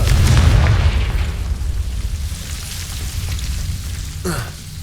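A Confringo spell explodes in Hogwarts Legacy with a heavy booming blast that decays into a crackling rumble, and a brief sharp magical zap sounds near the end.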